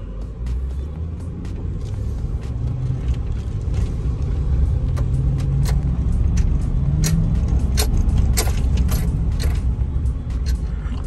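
A truck is driven on a road during a dealer's trade-in check, giving a constant low engine and road rumble with scattered clicks and rattles from the cab. The level rises slightly partway through, and no one talks.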